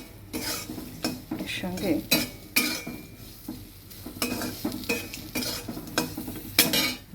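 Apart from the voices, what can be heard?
potatoes with turmeric frying and being stirred in a pan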